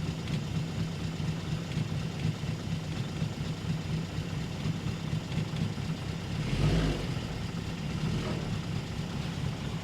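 A 1930s Standard Flying Eight car engine in neutral with the choke pulled out runs steadily and fairly loud, with a rough low throb and a brief surge of revs partway through.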